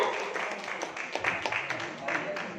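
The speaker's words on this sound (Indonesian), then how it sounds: "tepuk tangan untuk Bapak Andri" An audience at a marketing plan presentation gives a short burst of scattered hand clapping, mixed with people talking over it.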